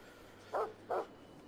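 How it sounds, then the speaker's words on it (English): Two short, close dog barks in quick succession from The Final Station video game, heard over a low steady background hum. "we hear some dogs are borking somewhere on here"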